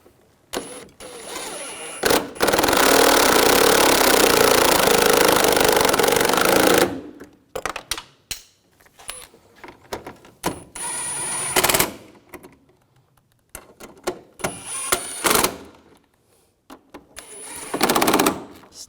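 A power tool runs in one long burst of about four seconds, tightening the headlight mounting bolts on a 2011-2018 Volkswagen Jetta, followed by shorter, quieter bursts and handling noises.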